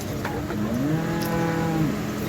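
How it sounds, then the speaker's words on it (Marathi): A Jafarabadi or Murrah buffalo at the Ghodegaon buffalo market in Maharashtra gives one drawn-out, low lowing call over a steady hum of market background noise. "इकडे या दोन गुलाल टाकलेल्या जाफर म्हैस आहेत आणि सऱ्या बाकीच्या मुर्रा मासान जाफर अशा म्हैस आहेत"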